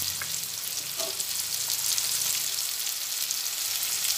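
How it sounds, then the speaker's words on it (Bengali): Potatoes fry in hot oil seasoned with salt and Kashmiri chili powder, a steady close sizzle and crackle with a few soft stirring knocks near the start, no voices. "এরপরে সব মিশিয়ে এটা একটু ভালোভাবে ভেজে নেব।"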